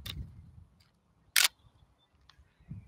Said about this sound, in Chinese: 给你听一下快门声